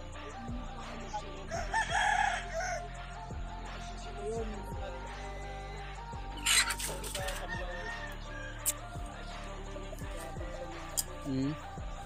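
Rooster crowing loudly near the start on a backyard game farm, with hens clucking and other fowl calling around it, plus a few brief sharp noises, over a steady low background hum.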